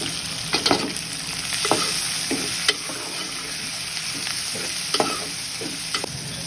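Onions and tomatoes with green chilies sizzle steadily in a pan for a dosa chutney, with repeated scraping and stirring strokes over a constant close frying hiss and no talk.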